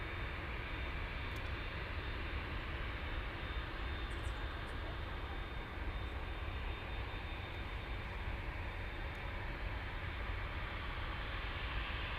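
An aircraft taxiing at Munich airport, heard as a steady, distant engine roar that stays even and unbroken throughout.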